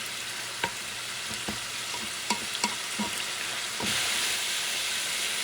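Greasy ground meat for a classic shepherd's pie is stirred in a pan, with a constant sizzle and frying hiss broken by sharp spoon scrapes and clacks against the pan. The hiss grows louder near the end.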